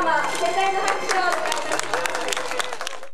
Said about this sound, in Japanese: 皆様、盛大な拍手を。